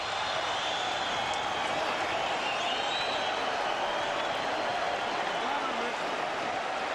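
A boxing crowd roars continuously during the Micky Ward vs Arturo Gatti fight, a dense, unbroken wall of cheering that holds at a steady level throughout.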